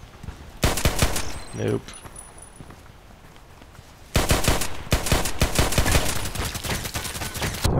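Gunfire in the online shooter Contract Wars, with loud rapid bursts of shots in two long volleys split by a short quieter gap, and a brief spoken word near the start.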